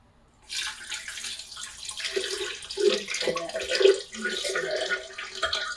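Water pours steadily into a blender for several seconds, a splashing, rushing stream that swells and varies in pitch as it fills.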